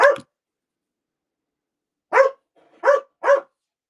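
A dog barks as someone leaves the house: one sharp bark, a pause, then three quick barks close by in an otherwise quiet room.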